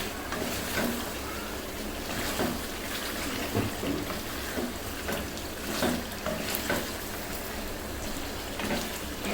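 Beef being stir-fried down in oil in a pan for a sweet, sour and spicy dish, a steady dense sizzle and crackle throughout with occasional louder spits, no talking.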